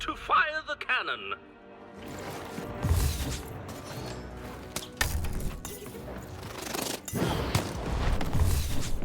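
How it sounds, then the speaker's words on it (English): Cannon firing in the video game Lost in Random, a few loud crashing booms and impacts amid busy game effects and music, with speech present over parts of it. "Shoot the button to fire the cannon."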